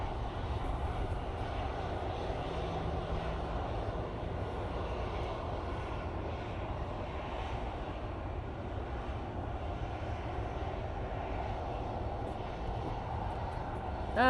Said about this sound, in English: EasyJet on a positioning flight over to Liverpool.